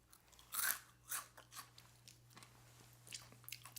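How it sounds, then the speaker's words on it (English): Close, crisp crunching of small, greasy, salty Japanese French-fry-style potato chips, with a loud first bite followed by a series of softer chewing crunches and no talking. "Decently crunchy"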